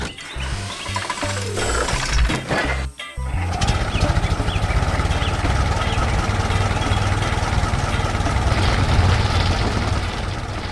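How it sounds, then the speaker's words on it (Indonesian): A purple tractor working a farm field rumbles with a steady, low engine drone and a rattling mechanical texture, loud and continuous throughout. "Traktor ungu bekerja keras di ladang, di sekeliling pagar kayu, dan bangunan gudang yang klasik di bawah langit cerah."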